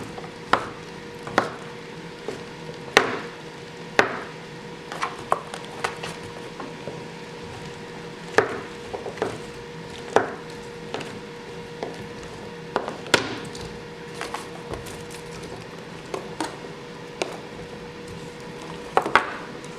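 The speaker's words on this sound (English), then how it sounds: "mushrooms a rough chop really quick" A knife rough-chopping mushrooms on a board, irregular close taps and chops repeating over a quiet background hum.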